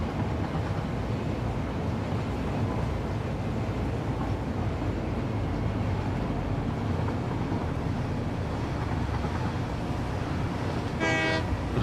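A steady, loud rumble of a train in the video game Satisfactory rolls on throughout, and a short horn blast sounds right at the end.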